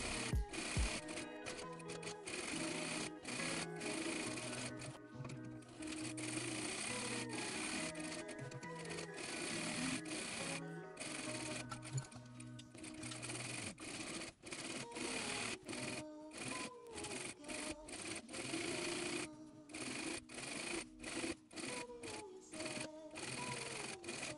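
Sewing machine double top stitching denim shorts, a rapid mechanical stitching rattle running in repeated bursts with short pauses and handling rustles between, close and alone.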